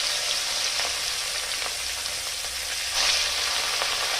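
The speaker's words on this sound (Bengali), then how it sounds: "ওই তেলে বাকি মাছগুলো একইভাবে ভেজে নেব" Pieces of katla fish sizzle and crackle in hot cooking oil in a pan, a continuous close frying hiss with occasional sharper pops.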